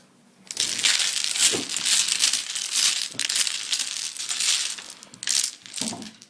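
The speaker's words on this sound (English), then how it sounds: "The dominoes have been shuffled." A set of dominoes being shuffled by hand across a tabletop, giving a steady, busy clatter of tiles knocking and sliding for several seconds with no talking.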